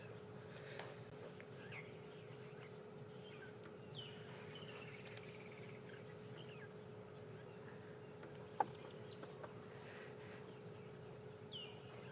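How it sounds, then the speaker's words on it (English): Quiet African bush morning on a safari drive at Djuma and Arathusa, with faint scattered bird calls and chirps over a low steady engine hum, a single sharp click near the end, no talking. "Be quiet morning bird song."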